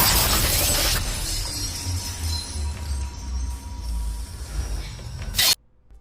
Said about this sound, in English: What sounds like a charge detonating, an explosion, glass shattering